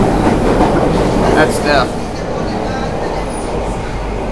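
A train in London rumbles steadily along the rails, a loud continuous roar with a brief squeal, heard from inside a carriage while a person speaks briefly.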